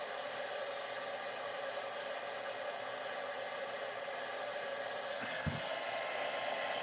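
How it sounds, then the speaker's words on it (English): A loud, steady rushing whir of hot air from an embossing heat tool blowing continuously, with a brief knock near the end. "I'm going to heat up my heat tool. It's going to get a little loud for a minute."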